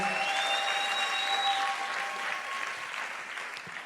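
Church congregation applauding a sermon's call to acclaim God, a steady burst of clapping that gradually thins and fades over a few seconds, with faint tones lingering behind.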